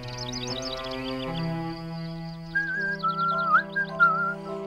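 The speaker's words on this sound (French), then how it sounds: "J'aime bien l'air que tu siffles." A melodic whistled tune with sliding, wavering notes rises over a steady musical backing, fairly clear and close.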